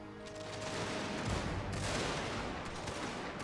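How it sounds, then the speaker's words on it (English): Musket volleys from massed infantry battalions in a Total War: Fall of the Samurai battle, a dense, continuous crackle of overlapping gunfire holding steady throughout, with no talk. "I'm gonna order the battalions to halt and resume firing on the enemy."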